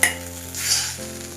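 Tomato masala sautéing in a pan gives off a steady close sizzle and frying hiss, with a brief stir scrape at the start and no voices.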